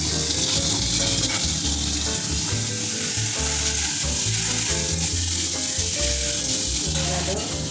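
Ground spice paste sizzles steadily with boiled potato and coconut in a kadai for vegetarian ghugni, a continuous close frying hiss with faint clinks of stirring and no talking.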